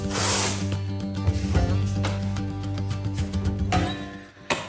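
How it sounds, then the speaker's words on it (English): Masking tape tears and rips off the roll in rasping bursts as an area of stained wood is masked off for French polishing, close and alone with small scrapes and taps between. "So I'm going to mask off just one area here"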